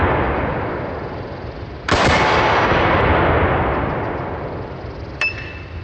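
A Typhoon F12 semi-automatic 12-gauge shotgun fires a slug outdoors in one loud, sharp blast with a long rolling echo, followed a few seconds later by a short metallic clink.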